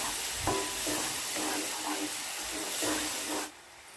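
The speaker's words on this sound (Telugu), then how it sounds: "ఇదంతా ఒకసారి కలబెడదాం" A tomato paste masala with ginger-garlic paste sizzles steadily in a pan while a spoon stirs and scrapes through it in repeated strokes, then the hiss drops away sharply near the end.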